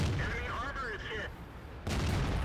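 Single heavy tank cannon shot from an STB-1 in a tank battle game, a sharp loud boom near the end after a stretch of engine noise with a player talking over it.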